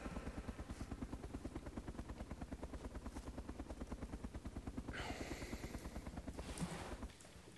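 Helicopter flying in DayZ, with a steady, rapid rotor chop pulsing throughout at moderate loudness, briefly overlaid by a sharper burst of noise near the end.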